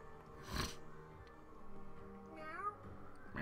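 Cat meowing in the South Park video game The Fractured But Whole: a few short, clear meows, one at the start, another gliding upward partway through, and a third cut off at the end, over a quiet game background.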